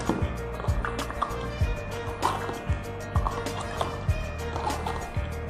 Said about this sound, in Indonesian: saya aduk.